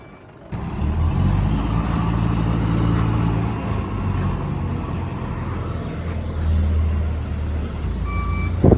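A truck reverses at a chemical tank loading site, its engine rumbling steadily and loud close by, with faint high reversing beeps showing near the end.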